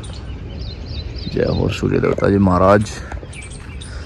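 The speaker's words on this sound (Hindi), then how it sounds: "कोयलें बोल रही हैं, चिड़ियाँ चहचहा रही हैं," Birds chirp and call faintly in the background, with koel-like calls among them, while someone speaks in the foreground.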